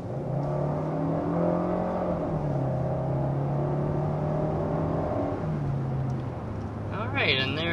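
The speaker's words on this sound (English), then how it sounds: "there's an acceleration up to 60-ish miles an hour in this 2023 Kia K5" A 2023 Kia K5 accelerating up to about 60 mph, heard from inside as a steady, loud engine drone with a rising hum and road roar, and a brief chirp near the end.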